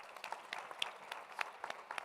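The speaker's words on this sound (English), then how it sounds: "Can we give them a round of applause to get us started?" Faint, sparse clapping from a small youth forum audience comes as scattered individual claps, distant and quiet, for about two seconds.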